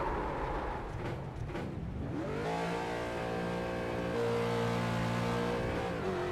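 A figure-8 race car with a broken axle strains along the track, its engine revving up unevenly and then holding a rough, loud drone, with no voices.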